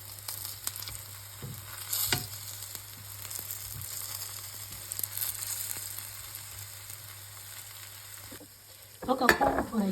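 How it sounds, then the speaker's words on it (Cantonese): Flour-coated tofu pan-fries over medium heat in an oiled wok until golden on each side, giving a continuous close sizzle with occasional stirring scrapes and a louder burst of crackling near the end. "我哋將每邊都煎到佢金黃色。"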